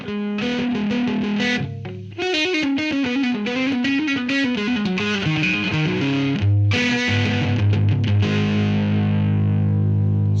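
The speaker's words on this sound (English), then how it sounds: "I'm going to turn up the drive" Heavily overdriven electric guitar through a Joyo AC Tone pedal with the drive turned up plays loud distorted chords and riffs, with a brief pause near two seconds, then sustained crunchy chords ringing out.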